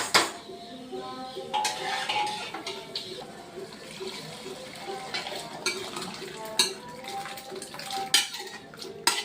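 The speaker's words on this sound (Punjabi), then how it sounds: "ਆਲੂ ਜੀ ਤੜਕਾ ਭੁੱਜ ਗਿਆ ਹੁਣ ਅਸੀਂ ਰਾਜਮਾ ਪਾ ਦਾਂਗੇ" Kidney beans (rajma) tipped into a pot of sizzling tadka with potatoes, with metal clatters of spoon and pot, stirring and a wet sizzle running steadily throughout at close range.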